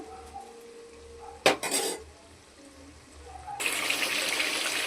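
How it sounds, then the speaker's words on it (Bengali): Mutton and potatoes tipped into a cooking pot of fried spice paste for kosha mutton, giving a brief clatter of metal utensils and pot, then a steady sizzling hiss as the meat starts to cook. "এবার আমি মাটনটাকে দিয়ে দিচ্ছি।"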